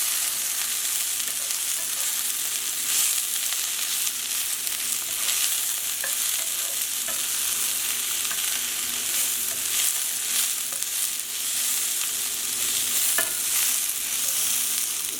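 Bok choy and carrots sizzle steadily in a hot pan while being stirred, a loud continuous frying hiss with occasional scraping, and no voices over it.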